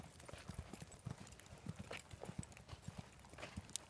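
Hooves of a ridden horse clip-clopping in a steady walking rhythm on firm ground, close and fairly soft, with a rider's faint voice and outdoor noise underneath.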